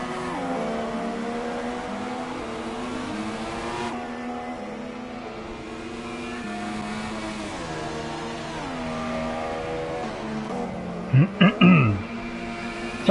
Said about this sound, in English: Miss Dim now up to P5 with these cars pitting in.